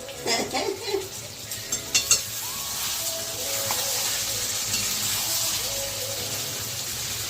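Mutton kosha sizzles in oil while being stirred, with a few sharp scrapes and clinks of a spoon against the pot early on, then a steady soft hiss of frying.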